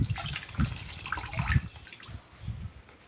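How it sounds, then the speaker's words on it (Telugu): A saree is hand washed in a bucket of water, with repeated sloshing and splashing as the cloth is plunged and squeezed, loud at first and then quieter, with no speech. "అందుకే నేను ఇలా బకెట్ వాష్ చేస్తాను"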